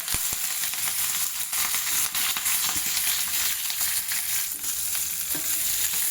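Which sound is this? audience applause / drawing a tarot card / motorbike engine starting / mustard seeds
mustard seeds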